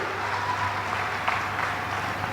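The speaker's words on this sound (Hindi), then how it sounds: "एक बार उनका ताली बजा के आप भी स्वागत कीजिए" An audience at a forest workers' conference in Bhopal applauds steadily for a couple of seconds, a dense even clapping from a large crowd without pauses.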